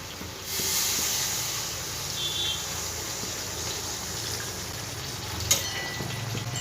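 Water poured into a hot pan of Bengali fish-oil chorchori with half-cooked potatoes, giving a steady loud hiss and sizzle of steam that holds throughout, with a small clatter near the end.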